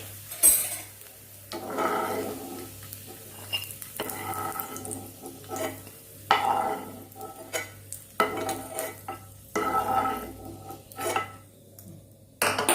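Raisins fry softly in a pan while a spoon repeatedly scrapes and stirs against metal, bursts of clatter over a low, steady sizzle.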